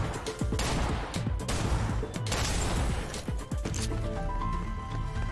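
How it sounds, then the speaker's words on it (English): Hand cannon gunfire in the sci-fi shooter Snowbreak: Containment Zone: a dense run of sharp, loud shots with broadband cracks, repeating throughout alongside other game action and effects. "Yeah, I like the hand cannon."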